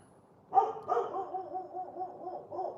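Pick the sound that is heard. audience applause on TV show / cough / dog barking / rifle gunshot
dog barking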